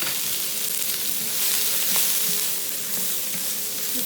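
Bean sprouts and chili fry hard in a wok for char kuay teow, a loud continuous sizzle with occasional stirring scrapes, close up.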